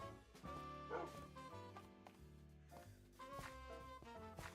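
A dog barks softly in Minecraft, small bow-wow yips over dense, layered background music that carries throughout.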